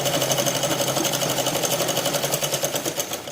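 Sewing machine stitching a can-can petticoat, running steadily with a fast, even rhythmic chatter throughout, close and fairly loud with no voices.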